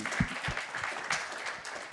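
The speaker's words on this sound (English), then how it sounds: "Round of applause for Full Sail" Audience applause at an on-stage conversation, a continuous wash of many hands clapping at moderate loudness for the whole stretch, with a few close, sharper claps near the start.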